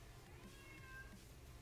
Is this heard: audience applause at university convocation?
no